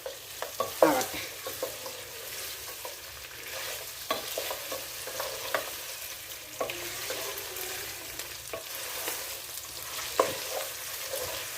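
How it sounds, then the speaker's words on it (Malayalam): Chicken for Chinese chilli chicken frying in a pan, with steady sizzling and repeated scraping stirs of a spatula at close range, no voices. "ഇതിനകത്ത് കിടന്ന് മൂത്തൊരു പരുവായി ചിക്കൻ"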